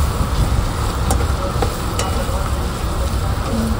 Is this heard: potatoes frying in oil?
yes